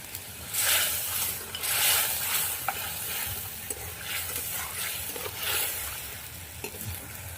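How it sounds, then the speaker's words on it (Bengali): Spice paste for a water lily (shapla) dish frying and being stirred in a pan, with steady close sizzling and scraping strokes that swell and fade in repeated waves, no voices. "মশলাটা ভালো করে কষিয়ে নেব"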